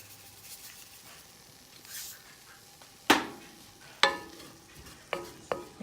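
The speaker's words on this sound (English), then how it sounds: "you're going to add your flour and stir it around and add salt and pepper" A spoon stirs flour into translucent onions in a pot for chicken pot pie, with a soft frying hiss under several sharp scraping strokes that come at irregular intervals.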